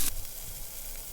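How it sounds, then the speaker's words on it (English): Refried French fries sizzle in hot oil, a steady close hiss that holds for a moment after a brief louder burst at the start. "Refry our French fries."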